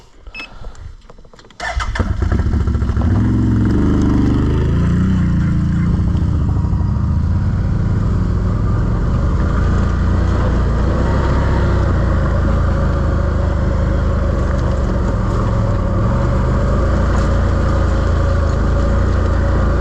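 A 2025 Can-Am Outlander XMR 1000 ATV engine starts after a brief quiet moment, then runs as a loud, steady, close engine roar while riding along, with no talk over it.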